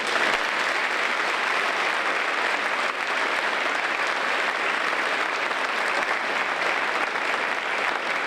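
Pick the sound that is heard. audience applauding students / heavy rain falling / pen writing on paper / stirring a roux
audience applauding students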